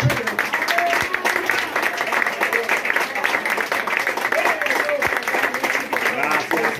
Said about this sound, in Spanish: Hazle fuerte el aplauso al Señor en esta noche.